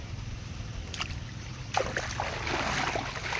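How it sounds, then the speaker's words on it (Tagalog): Water rushes out of a pump hose onto crops in a strong, steady gush that swells after a few faint splashes, over a low mechanical hum of the water pump engine. "Ayan tubig ganito kalakas"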